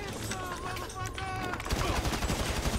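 Pistol gunfire in the video game GTA Online, a burst of rapid shots that grows louder toward the end, heard over game sounds and excited talking.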